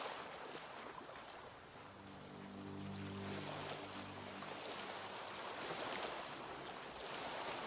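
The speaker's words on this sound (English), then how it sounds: "I just wanted to, you know, hear the really loud waves" Loud ocean waves in the video game Tainted Grail: Fall of Avalon, a continuous broad rushing surf that swells and recedes, joined midway by a low droning hum.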